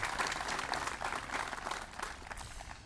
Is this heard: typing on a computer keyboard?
no